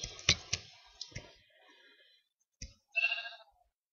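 A few sharp clicks, then after a pause a short, thin sheep bleat from the video game Monster Buster, fairly quiet and synthetic-sounding.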